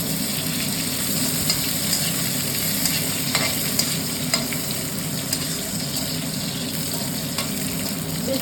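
Cashews and raisins frying in a very hot pan (kadai) for pulao, giving a steady, close sizzle with occasional stirring scrapes and clicks throughout, no voices.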